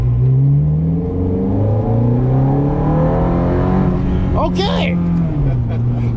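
A 2007 Ferrari F430 race car engine drones and climbs in pitch as it accelerates from inside the cabin, loud and continuous, with a brief excited voice partway through.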